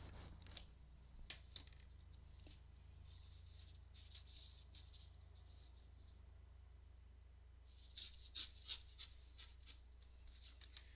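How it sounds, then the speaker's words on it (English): Paper being torn by hand while preparing pages for a hand-stitched three-hole pamphlet, heard as quiet, scattered crisp rips and rustles, with a busier cluster of short tears near the end. "I think I'm going to do a messy tear"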